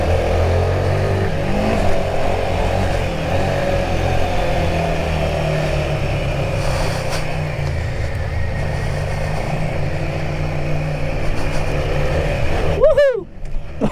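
A 2024 Royal Enfield Himalayan 450 motorcycle engine runs steadily at a loud, close level with wind rush, ending in a brief revving surge near the close.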